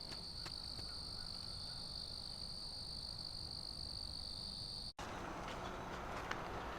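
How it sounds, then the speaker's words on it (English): Pickerel frog calling near a lake in northern New Jersey, a faint, distant croaking mixed with steady high-pitched insect trilling, continuous and quiet, with a brief break partway through and no talk. "this little critter is the pickerel frog"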